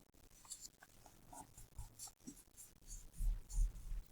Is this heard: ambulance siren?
no